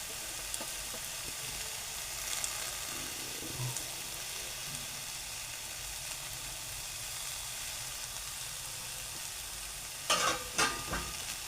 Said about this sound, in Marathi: आपण आता परतून घेऊ भाजी.